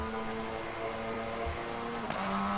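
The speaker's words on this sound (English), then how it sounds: "Just hear those upshifts." Cupra race car on the Nurburgring, engine droning steadily and climbing before one quick upshift near the end, pitch dipping then rising again, loud and continuous with no voices.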